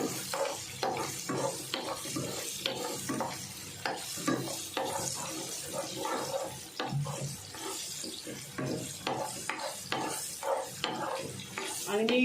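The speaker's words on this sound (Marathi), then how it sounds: "कैरी टाकली गॅस कमी करून थोडा कैरीचा कलर चेंज करून द्यायचा" Raw mango frying in a pan on low gas for a pickle, a soft continuous sizzle under frequent rhythmic stirring scrapes and clinks of a spoon, close by.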